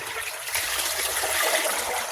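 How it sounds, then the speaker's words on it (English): Water drains out of a stainless steel countertop water distiller, a continuous rushing, splashing pour that swells slightly in the middle and holds close and fairly loud for the whole stretch. "So I have to drain this."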